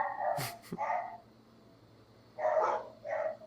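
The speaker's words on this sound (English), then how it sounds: "what is Kona barking at?" A dog barks in two short bursts of two or three barks each, separated by a brief quiet pause, fairly close and clear.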